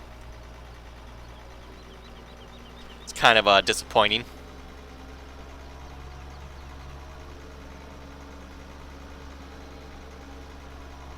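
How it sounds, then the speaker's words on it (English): A John Deere tractor engine idles in the Farming Simulator 15 video game, holding a steady low drone the whole time. Someone speaks briefly over the hum partway through. "Kind of an interesting sound on this tractor."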